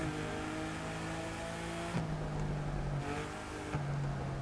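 A car engine in a video game hums and revs steadily, its pitch dipping and rising with gear-like shifts, loud and close with no talking.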